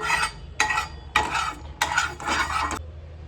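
A spoon stirs batter on a hot tawa in four or five bursts of scraping and swishing, close and fairly loud, with short pauses between strokes.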